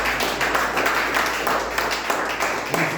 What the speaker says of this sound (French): Une acclamation pour les seigneurs